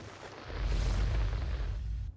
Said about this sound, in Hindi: गुरुग्राम में भारी बारिश हो रही है